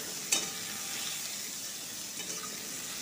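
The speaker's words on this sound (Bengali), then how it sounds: "একটু নাড়াচাড়া করে নিলাম।" Potatoes and pointed gourd are stirred in a frying pan, with a soft, continuous sizzle and a couple of brief scraping strokes, fairly quiet and with no talking.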